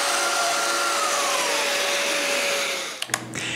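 A power tool cutting a 25 mm deep mortise in wood, a steady loud whining drone throughout that slows and stops near the end with a few clunks.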